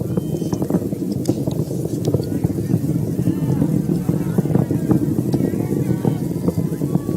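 A SpaceX Falcon Heavy rocket, all 27 Merlin engines firing during the launch of NOAA's GOES-U weather satellite, gives a steady, loud, distant broadband roar with a wind-like rush that never lets up.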